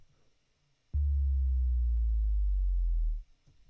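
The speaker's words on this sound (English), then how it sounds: "we've got a bass drop" A deep, loud sub-bass drop swells in abruptly and sustains for about two seconds before cutting off, alone over near silence.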